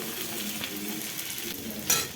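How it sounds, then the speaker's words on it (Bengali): Garlic and then ginger fry in a pan for fried rice, giving a steady close sizzle with stirring scrapes throughout and a brief louder clatter near the end, with no talking. "রসুনটা দেখো একটু লাল লাল হয়ে গেছে এখন আমি এতে আদাটাও দিয়ে দিচ্ছি"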